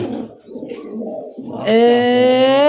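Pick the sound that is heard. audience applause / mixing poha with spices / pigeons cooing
pigeons cooing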